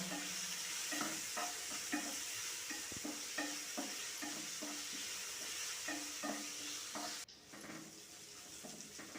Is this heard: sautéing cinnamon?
yes